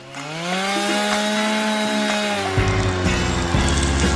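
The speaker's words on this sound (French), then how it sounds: "Avec l'aide de cette scie, je vais faire comme ça." A motorized saw whines steadily, then bites into material with a rough, rattling buzz that continues to the end, loud and close.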